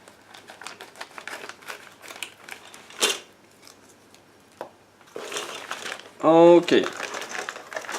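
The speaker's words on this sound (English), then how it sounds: "I'm trying to cut through those parts." Plastic model kit parts being cut from white sprues for a 1/72 Iskander-M kit, heard as close, scattered snips and clicks, with a short spoken word and a louder crinkling rustle near the end.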